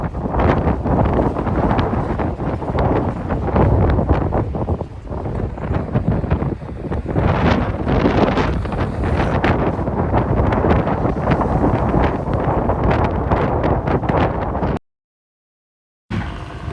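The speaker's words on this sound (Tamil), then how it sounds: "வீடியோவில் இருக்க நாய்ஸ் வச்சு நீங்கள் கண்டுபிடிக்கலாம் காற்று ரொம்ப அதிகமாக இருக்குது" Strong wind at sea by the new Pamban bridge construction site buffets the microphone, producing loud, rumbling, uneven gusts that roar almost continuously, with a short silent gap near the end.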